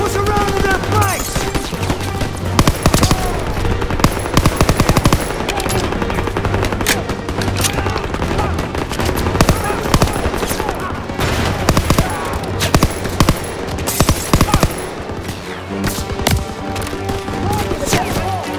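Sustained machine gun fire from a World War II shooter game, Call of Duty: WWII, rattling in dense bursts over a stairwell firefight with explosions, game music and distant shouted voices mixed in throughout.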